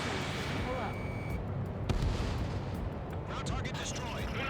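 In Ace Combat 7, a ground target is destroyed amid a dense, rumbling wash of explosions and gunfire, loud and continuous with a sharper blast near the middle, while voices talk over it.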